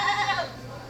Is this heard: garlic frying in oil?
no